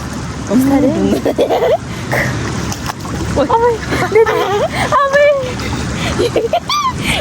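Water splashing and sloshing as someone wades across a river at a riverside beach resort in Sindhupalchok, close splashes under excited talking and exclamations throughout.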